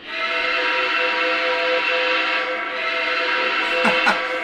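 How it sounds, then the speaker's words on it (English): The steam whistle of a Lionel VisionLine model of a Norfolk and Western Class A locomotive blows in one long, steady, loud chord, followed near the end by two short toots. "What would it be without the 765 whistle?"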